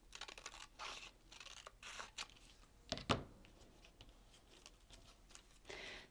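Scissors trim a paper bra pattern piece in a quick run of crisp snips and papery rustles, with one sharper crunch partway through and no talking.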